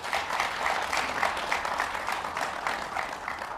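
An audience at a talk on the Indian constitution at Stanford claps in a steady, fairly quiet spread of applause that holds through the clip.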